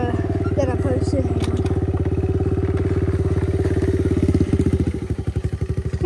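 A stock 2016 Kawasaki KLX 110 pit bike engine runs loud and close with a rapid, even thumping beat, then revs pulse and fade toward the end.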